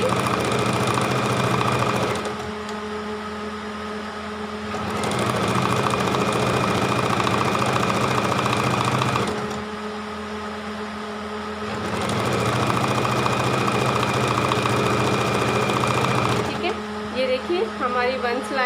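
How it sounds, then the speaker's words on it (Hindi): A sewing machine stitches a strip for a two-year-old's designer baby frock, its steady motor whir running in long bursts with brief pauses between runs, close and fairly loud, with no talk over it. "स्टिचिंग करना स्टार्ट कर देंगे"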